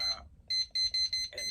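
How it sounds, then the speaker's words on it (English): An electronic timer alarm gives a quick series of bright, repeated beeps in short bursts, clear and close in a quiet room. "I want to set my timer"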